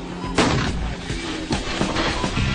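A Stryker armored vehicle fires its weapon in a series of booming reports over a loud, steady rumble, with heavy blasts near 0.4, 1.5 and 2.4 seconds.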